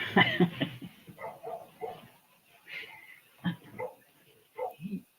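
Outdoors, a dog barks in short, irregular bursts, loud at the start and then scattered and fainter across the seconds that follow, with no talking.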